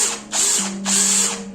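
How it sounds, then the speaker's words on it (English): Power drill boring holes into XPS foam for a tabletop gaming board, two close bursts of whirring motor with a steady hum underneath, loud and alone. "Now it's time for our drill."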